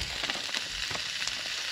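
Lamb chops (costillas de cordero) cooking at a mountain campsite, a soft steady sizzle with faint crackles, fairly quiet.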